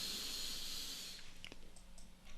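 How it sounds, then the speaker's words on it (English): A deep inhaled breath during guided meditation, a soft airy hiss lasting about a second, then quiet with faint small clicks. "We take a deep breath in"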